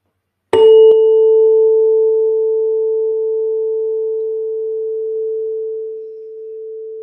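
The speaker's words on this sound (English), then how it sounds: "If you hit a tuning fork, the two parts of the fork is going to vibrate." A struck tuning fork rings out with one sharp attack followed by a pure, steady sustained tone that fades very slowly over several seconds, loud and close with nothing else present.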